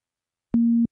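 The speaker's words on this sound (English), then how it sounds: "Now you can change oscillator 1 to cross mod, and I'll give you a sine wave." A pure, low sine tone from an analog modelling synth oscillator sounds once, loud and steady for about a third of a second, with soft onset and release thumps at each end.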